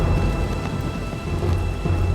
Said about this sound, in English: The slow-moving storm is now hanging over Boston.